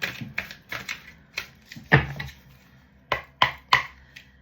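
Large oversized oracle cards being shuffled by hand, giving a run of crisp, papery slaps and riffles in uneven bursts, close and fairly loud with brief pauses between.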